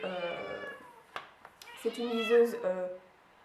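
A house cat meows indoors, with a couple of drawn-out, wavering cries close by, mixed in with a person talking.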